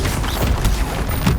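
Bombardo blast spell cast in Hogwarts Legacy, a dense, rumbling burst of low booms and crackling debris that fills the whole moment, loud and close, with a few faint scattered impacts.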